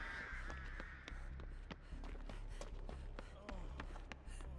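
In the horror video game Dead by Daylight, crows give several harsh caws while a person talks over them.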